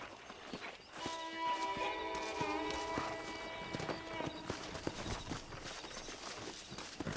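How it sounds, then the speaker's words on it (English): Hooves of a pack of wild horses in Red Dead Redemption, a clip-clop of trotting that stays faint and somewhat distant under a steady game ambience and music-like tones, with no speech over it. "That ranch hand said there's a pack of wild horses nearby."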